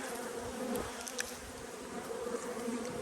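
Carniolan honey bee colony in early spring, a dense steady buzz of many bees close up, with occasional louder passes of individual bees.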